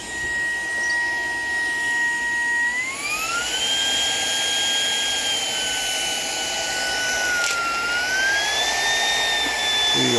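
A battery-powered Shark PowerDetect vacuum cleaner with a metal attachment running across a kitchen floor: a steady, loud motor whine that steps up in pitch early on and shifts again later, with a rough rushing hiss beneath.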